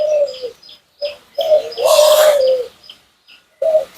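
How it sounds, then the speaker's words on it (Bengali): Small doves cooing nearby, several soft tonal coos in short bursts with brief gaps between them, mixed with a few light chirps and a passing noisy flutter. "এই যে আপনাদেরকে দেখাবো ঘুঘু"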